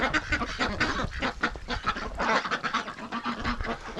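Ducks and geese, Muscovy ducks among them, call and honk continuously with overlapping squawks and quacks, close by and fairly loud, with no talking.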